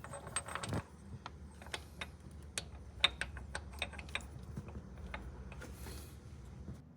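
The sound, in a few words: tightening crankshaft pulley bolt on Land Cruiser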